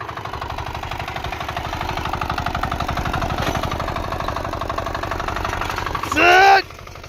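A mini tractor engine runs on a farm, a close, steady chugging idle with a rapid even pulse, broken near the end by a short, sharp whine.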